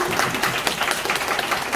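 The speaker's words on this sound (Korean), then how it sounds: "박수 한번 보내주시면 고맙겠습니다" An audience at a first-birthday thanksgiving church service claps in a brief, dense burst of applause that stays even and close, with no talk over it.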